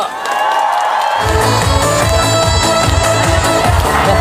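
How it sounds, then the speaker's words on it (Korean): Concert crowd at the Buyeo lotus festival applauding and cheering loudly for a trot singer, a packed roar of clapping and shouts with a rhythmic low beat pulsing underneath, sustained and close. "다시 한번 큰 박수 부탁드리겠습니다."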